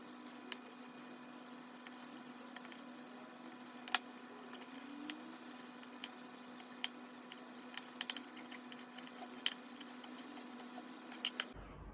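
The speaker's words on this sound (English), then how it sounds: "I'm just gonna give that a fine dice." A knife finely dices feijoa fruit, peel left on, on a cutting board: quiet, rapid irregular taps and clicks over a steady low hum, fairly faint and close.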